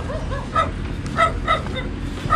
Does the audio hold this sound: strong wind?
no